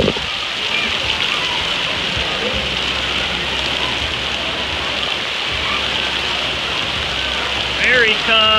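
Water pours down heavily at a water park in a steady, rushing, rain-like roar that continues throughout, with a voice briefly heard near the end.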